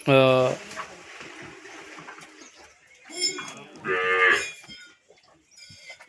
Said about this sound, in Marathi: हे गावठी गाय आहेत मित्रांनो